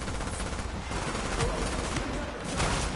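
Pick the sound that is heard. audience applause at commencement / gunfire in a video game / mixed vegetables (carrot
gunfire in a video game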